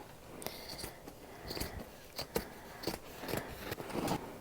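Scissors snipping through a finished quilt to free it from a Grace Q'nique 16X quilting machine, a series of crisp close cuts in an irregular rhythm, quiet and alone.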